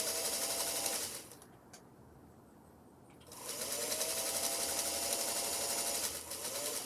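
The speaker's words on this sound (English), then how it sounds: "I actually have never heard a quieter featherweight" A Featherweight sewing machine stitches very quietly with a smooth, even whir, running in two stretches separated by a short pause.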